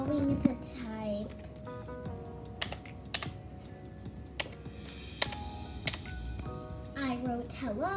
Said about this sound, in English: you get your ASMR keyboard and you type what you want to type